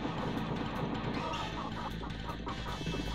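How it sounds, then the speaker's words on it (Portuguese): Chickens cluck repeatedly in a Super Nintendo cowboy western game, a busy string of short choppy clucks mixed with game sounds at steady, moderate loudness. "as galinhas."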